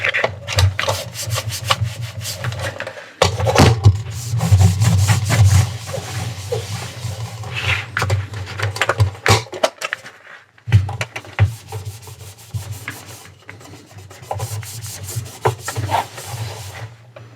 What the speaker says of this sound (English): I'll just give them the once over first of all with this now slightly damp duster